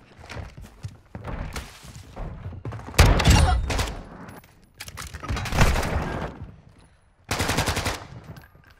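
Hip-fired shotgun slugs boom out in a video game, several heavy shots in separate bursts, loud and close, with short pauses between volleys.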